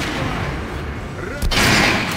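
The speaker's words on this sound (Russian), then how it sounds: "Попробуй выстрелить в центр груди." Gunfire in the video game Metro Last Light: a single sharp shot bursts out loudly near the end, preceded by a steady din of game sound and faint talk.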